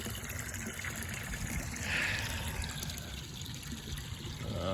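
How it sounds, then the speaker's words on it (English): Water from a well pump runs steadily into a cattle water tank outdoors, a continuous splashing trickle heard close and alone without speech. "As I hear the water, I'll know what's going in the tank."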